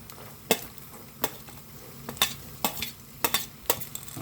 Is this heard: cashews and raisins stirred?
yes